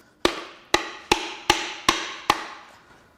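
Hammer blows on a seized Nissan KA24DE engine, six sharp metallic strikes at a steady rhythm, close and loud with short ringing decays, no talk.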